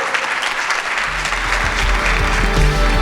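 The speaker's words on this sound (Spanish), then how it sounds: "La despedimos con este fuerte aplauso a Valeria y a Julieta." Audience applause at a talk on cannabis and care rights, a dense, steady wash of clapping from a crowd that swells and holds loudly throughout, with a low hum or music underneath from about midway.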